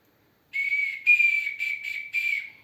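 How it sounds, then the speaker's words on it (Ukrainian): A traditional Ukrainian folk toy whistle of wood or clay sounds a clear, bright high tone in several separate blasts, a long one followed by shorter bursts, close and alone against silence. "Ось така свистулька."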